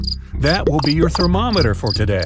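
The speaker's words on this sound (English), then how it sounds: "Have you heard the crickets chirp?" Crickets chirp in a regular repeating pulse, heard under someone speaking over them.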